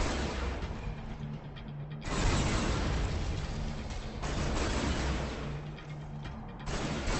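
Zone troopers in a real-time strategy video game attack and destroy a building, producing continuous dense rumbling blasts and gunfire-like crackle with mechanical clatter in surging waves, loud and without speech.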